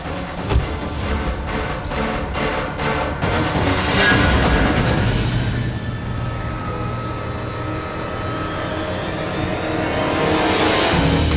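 A car drives along while following another car, a steady engine rumble and road noise that shifts partway through, then keeps up a continuous drone.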